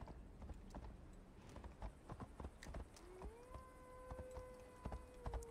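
Rhythmic horse hooves clip-clop at a steady walking pace in the video game Assassin's Creed Valhalla, with a long tonal note joining partway through, quiet and even.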